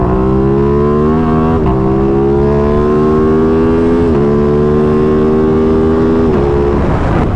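An Aprilia RS660 sport bike's engine drones loudly while riding, its steady tone rising in pitch with small dips at each gear change, continuous and close throughout.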